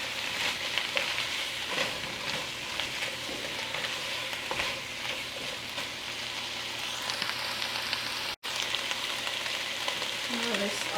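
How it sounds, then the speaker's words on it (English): Squash sizzling steadily in a hot pan while shrimp vindaloo with vegetables cooks, a continuous close frying hiss with occasional stirring scrapes and a brief dropout near the end. "Just let the squash cook like 2 minutes."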